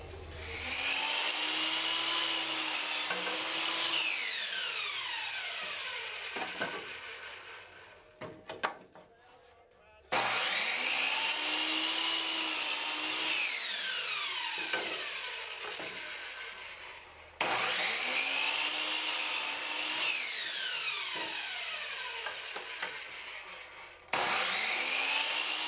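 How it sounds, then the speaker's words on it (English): Power saw slicing through wood neck blanks on a scarf joint jig, three long sustained cuts in a row, each whining loudly then winding down, with brief pauses and knocks between passes. "we're going to put on our scarf joint jig and we're going to cut these"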